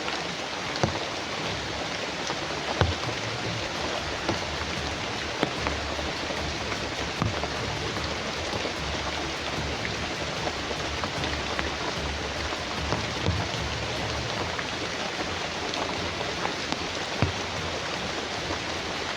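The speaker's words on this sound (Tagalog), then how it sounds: "Sobrang lakas ng ulan dito po." Heavy rain pours down in a steady, dense hiss and patter that stays unbroken throughout, with no one speaking.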